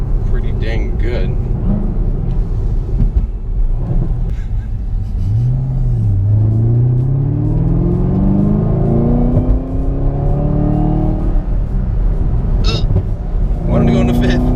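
Supercharged Chevrolet Camaro ZL1 1LE engine, a loud rumbling rev that climbs in pitch through the gears with whine, heard from inside the car while people talk over it.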